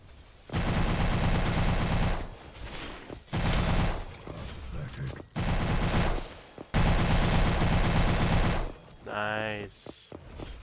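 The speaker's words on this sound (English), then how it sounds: "Bam, Tommy gun." A Tommy gun in Roblox Combat Warriors fires several rapid automatic bursts of clattering shots separated by short pauses, loud and close, with a brief spoken phrase near the end.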